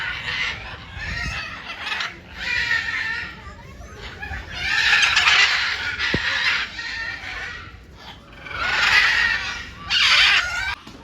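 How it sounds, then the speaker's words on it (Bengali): Red macaws calling at a zoo enclosure, loud harsh screeching squawks in repeated bursts of a second or two with short pauses between them, close by and filling the scene. "লাল ম্যাকাওগুলো।"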